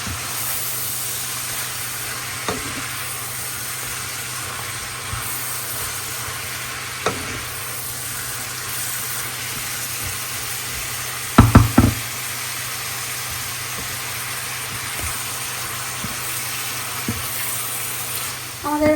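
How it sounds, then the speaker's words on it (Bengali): A steady hiss of radish (mooli bhaji) frying in a pan runs throughout, broken by occasional spatula taps and a brief cluster of sharper knocks partway through. "এখানে মূলো ভাজিটা করছিলাম"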